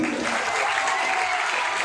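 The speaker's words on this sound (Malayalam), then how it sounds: "ആദർശിന് വേണ്ടിയും കുമാരിക്ക് വേണ്ടി നല്ലൊരു കൈയടി കൊടുക്കാം നമുക്ക്" A crowd at an Onam celebration gives a warm round of applause, a dense, even wash of many hands clapping at once that holds steady for its whole length.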